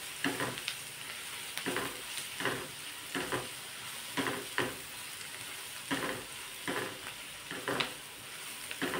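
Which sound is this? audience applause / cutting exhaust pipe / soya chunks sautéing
soya chunks sautéing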